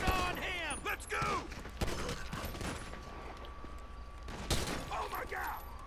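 Gunfire in GTA 5 snaps out as scattered sharp shots mixed with metallic clanks and glassy shattering, while voices shout over the chaotic, moderately loud firefight.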